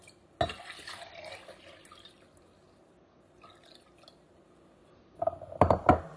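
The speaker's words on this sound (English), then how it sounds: "I will take this water here and put it in this measuring cup" Water pours into a measuring cup, a quiet trickle at first, then a louder, splashing burst of liquid near the end.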